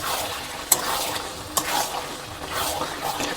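Chicken curry masala fries in oil in a pan on a gas flame, a close steady sizzle broken by sharp scraping and clinking strokes of a stirring spoon, with no voices.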